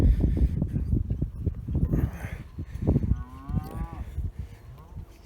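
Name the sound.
cow with sore foot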